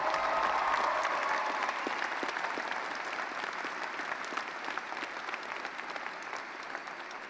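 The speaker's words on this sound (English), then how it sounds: "Please join me in giving them a round of applause at their final Centaurus" Applause rises for retiring faculty at a high school graduation ceremony, a large crowd clapping steadily and densely, then easing slightly toward the end.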